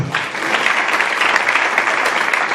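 Church congregation applauding and cheering at a sermon, a dense burst of clapping filling the space steadily for a couple of seconds, loud and close.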